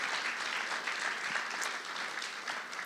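Worshippers in a church give a sustained round of applause, a continuous crackle of many clapping hands at moderate volume that holds evenly for nearly three seconds with no voices over it.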